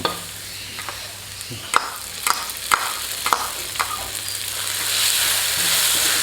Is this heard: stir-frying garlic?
yes